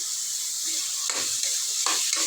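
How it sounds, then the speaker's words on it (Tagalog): Onion, tomato and ginger sauté in a pan for tinolang bangus, a steady hissing sizzle punctuated by several scraping stirs of a spatula, close and moderately loud, without speech. "Halo-haloin ko lang yan hanggang maluto yung ating kamatis"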